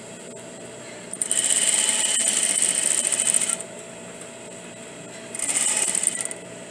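A sewing machine stitches a collar into a doll-sized bodice in two bursts, a long run of fast, close mechanical whirring, a pause, then a shorter run, with no talk.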